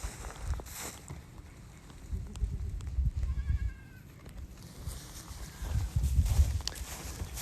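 Baby goat bleating in repeated calls, some short and some drawn out, over low rumbling background noise and shuffling footsteps on a farm.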